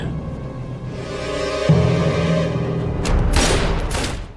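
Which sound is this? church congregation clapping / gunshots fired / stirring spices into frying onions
gunshots fired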